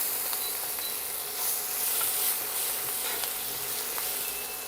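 Steady close sizzle of moong dal frying in a pan as grated ginger goes in, a continuous bright hiss with faint stirring scrapes and no talk.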